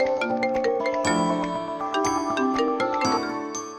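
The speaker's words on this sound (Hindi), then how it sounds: "आ गया तुम्हारे भैया का फोन।" A phone rings with a bright chiming melody of repeated tinkling notes, loud and close, fading slightly at the end.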